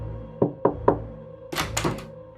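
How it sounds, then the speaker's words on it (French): Three firm knocks on a big black witch's door in a Halloween cartoon, evenly spaced and close, followed by a brief muffled rustle. "il frappa 3 fois."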